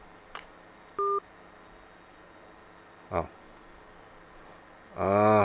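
Telephone keypad tones sound as a call is placed: a short faint blip, one clear two-tone dial beep, then a rising warble and a sustained ringing tone at the end, over a quiet hiss.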